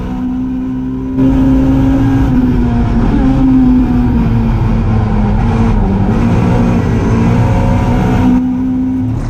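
A Mini Cooper racing at the Goodwood Revival, its engine droning loud and steady in a sustained close onboard roar with a slight rise and fall in pitch as it chases another car.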